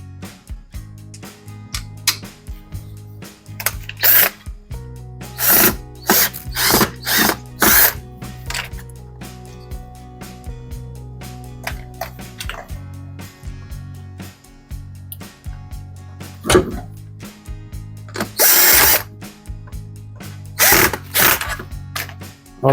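A power drill drives screws into a Samsung WF0700NCW washing machine motor during a carbon brush replacement, whirring in repeated loud bursts with ratcheting clicks between them, close up and without talk.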